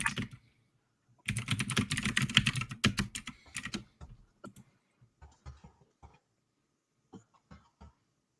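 Rapid bursts of typing on a loud computer keyboard, close and clattering, with brief pauses and a cough or throat clearing mixed in, then sparser isolated keystrokes.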